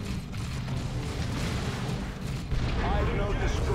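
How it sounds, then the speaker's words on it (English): A grenade explodes in the strategy game Warhammer 40,000: Dawn of War II, amid a dense, continuous rumble of battle noise and low booms, with a louder burst near the end. "The grenade worked this time."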